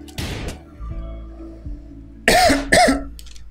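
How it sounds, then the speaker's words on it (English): A character in the colony-building game RimWorld coughs twice, harsh and close, after a quieter earlier cough and some faint background clatter. "Oh, the coughing."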